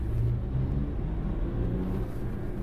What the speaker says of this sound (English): And it pulls really strong, and it has a really pleasant sound